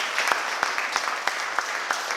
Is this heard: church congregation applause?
yes